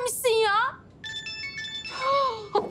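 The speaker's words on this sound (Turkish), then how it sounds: "Telefonu açmam lazım, kusura bakma." A phone ringtone plays in a Turkish drama scene as a melodic electronic tune with warbling bursts and a short pause between phrases. It sounds clear and near, with some background noise and no speech over it.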